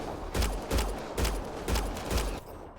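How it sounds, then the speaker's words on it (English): Combat in the video game Mass Effect: Andromeda after a grenade throw, a run of five loud, heavy booming bursts at a fairly steady rhythm, close and dominant, with no talk over them. "I throw a grenade. Let's see what that does."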